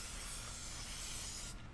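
Clear coat sprayed from a can over digital camouflage stencils, a continuous close, even hiss that holds steady and cuts off sharply near the end, no voices.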